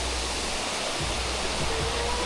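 Stream water flows in a steady, close rushing wash along a downhill trail in the Philippines, unbroken and fairly loud with no voices.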